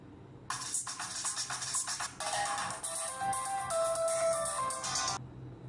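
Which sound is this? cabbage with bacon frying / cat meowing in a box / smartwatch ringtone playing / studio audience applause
smartwatch ringtone playing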